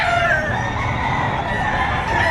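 A two-year-old rooster crows loudly and continuously at a livestock auction market in Padre Garcia, Batangas, its drawn-out call sitting over a busy background of other fowl clucking nearby.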